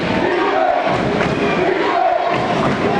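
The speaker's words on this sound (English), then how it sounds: "all their cheerleaders doing a nice job of cheering them on" A crowd and cheerleaders at a high school basketball game chant and cheer loudly in rhythmic bursts that rise and fall, filling a gym over dull thumps.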